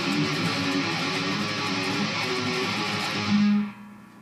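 Distorted electric guitar plays a reversed verse riff, a dense, loud stretch of chugging notes running steadily before ending on a held low note that cuts off.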